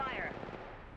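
Gunfire from a video game in a ranked arena match, a brief loud volley of shots that rings out and fades under faint background noise.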